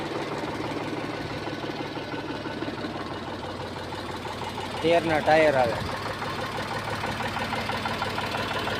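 An old three-cylinder Eicher 485 diesel tractor engine runs steadily at a low idle, a dense mechanical throb under close conversation, with a short louder burst midway.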